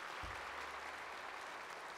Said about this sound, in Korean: 우리 시장님도 한번 박수 한번 해드리세요.